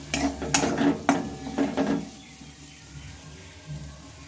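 A drumstick-leaf chop filling is stirred in a pan, with close clattering scrapes of the spatula against the metal for about two seconds. Faint sizzling and the odd soft tap follow.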